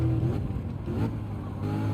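A Chevrolet Corvette C8 engine accelerates steadily in Gran Turismo 7 at the Nürburgring, a continuous close-up drone with a strong, even tone throughout.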